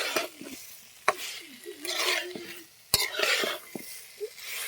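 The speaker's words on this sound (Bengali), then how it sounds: "তেলেতে দিয়ে দেবো আলুটা দিয়ে দেবো ভালো করে" Potatoes fry in spiced oil while a utensil stirs them, giving a faint sizzle with scraping strokes and a few sharp clinks against the pan, and no one speaks.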